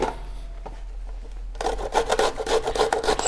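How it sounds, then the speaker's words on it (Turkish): An onion half is rubbed against a kitchen grater, starting as quiet scraping and then turning into loud, rapid rasping strokes in a close, steady rhythm. "Soğanımı rendeleyeceğim."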